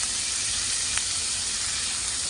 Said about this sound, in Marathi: आता आपण ही सगळी फ्लावर त्याच्यात टाकून घेणार आहोत